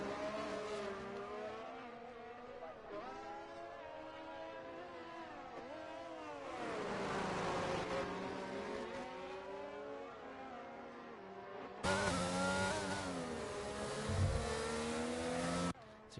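GP2 race car engines in a racing video game at Azerbaijan, a steady high whine rising and falling through gear changes, with a louder, harsher engine note cutting in near the end; no talk.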